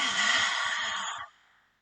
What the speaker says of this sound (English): you open your mouth and you stick out your tongue, and you do a nice deep exhale